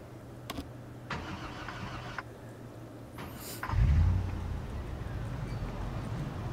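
A car engine cranks and catches with a loud low rumble partway through, then settles into a steady idle, following a few faint clicks and some background noise.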